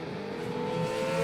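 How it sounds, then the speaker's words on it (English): Car engine revving, a steady tonal drone that builds slightly in loudness across a second or so, with no voices present. "There is nothing better than the roar of the engine"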